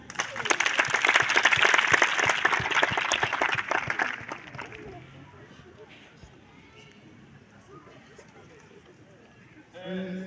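Church gathering rising to acclaim an honoured guest with loud, dense applause for about four seconds that fades into quieter room murmur and a brief burst at the end.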